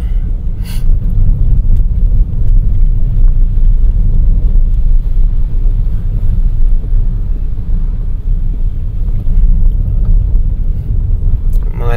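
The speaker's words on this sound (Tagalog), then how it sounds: "Malakas po ang ulan mga kababayan" Heavy rain drums on a moving car on a wet road near Daet, heard from inside the cabin as a dense, steady low roar and wash of road noise that stays loud and unbroken throughout.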